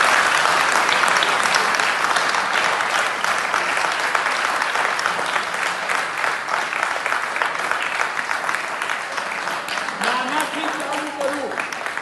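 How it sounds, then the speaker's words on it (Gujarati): Sustained applause from a theatre audience for the cast of a stage play, loud and dense throughout, with a short stretch of voices rising through it near the end. "આ નાટિકાના બધા જ પાત્રો માટે એક વખત જબરજસ્ત તાળીઓ"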